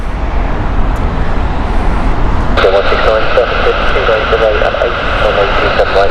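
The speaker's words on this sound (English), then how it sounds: "Air India next. This is the 787-8" An Air India Boeing 787-8 Dreamliner at Heathrow Airport roars loudly and steadily from its jet engines. A voice talks over the engine noise for the second half.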